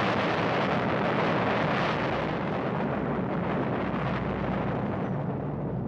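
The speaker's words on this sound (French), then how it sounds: "Quelle peut être la cause d'une telle explosion?" A deep, rumbling blast roars and rolls on for several seconds, broad and heavy, slowly fading without any voices.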